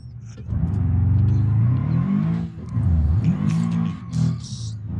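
A car in the BeamNG driving game runs up and down half pipes, its engine loud and close with a continuous rumbling drone that surges and dips as the ramps rise and fall, then rises again.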